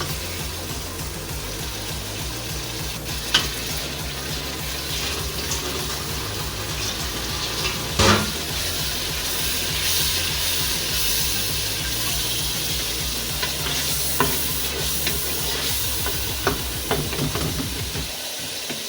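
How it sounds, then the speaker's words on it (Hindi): Lentil dal with yogurt, tomatoes, coriander and green chillies sizzles and hisses steadily in a pan, with a continuous frying crackle, a few louder clatters and no talking. "ये 2-3 मिनट बस हम इसको भूनेंगे।"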